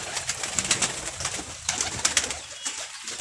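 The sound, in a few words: pigeons cooing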